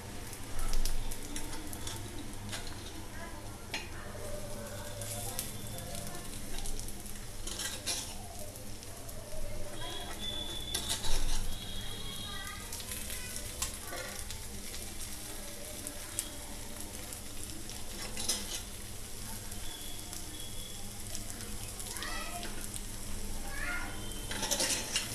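Ponganalu (appam) sizzle and fry steadily in a pan as they are flipped, a continuous close crackle with occasional light scraping and clinks from the utensil.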